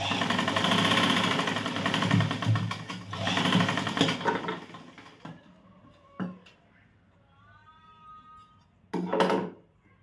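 A sewing machine stitches a katori blouse in a loud, steady whirring run for about four seconds. Quieter pauses follow with brief bursts of stitching.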